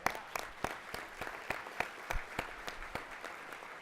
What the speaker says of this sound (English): Can we give you guys a round of applause?